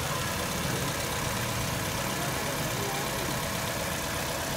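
A 2008 Hyundai Verna 1.3 sedan with a four-cylinder engine idles smoothly, giving a steady, even hum without pauses and no talking over it.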